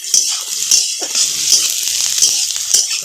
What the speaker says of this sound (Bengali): পেঁয়াজ লাল করে একটু ভেজে নেবো।